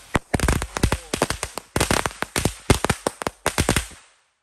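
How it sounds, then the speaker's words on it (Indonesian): Four packs of mini woodpecker firecrackers lit at once burst in a rapid string of sharp pops in quick succession for about four seconds, then stop abruptly into silence. "Selanjutnya kita nyalakan ini mini woodpecker, ini ada 4 pak, kita nyalakan sekaligus guys."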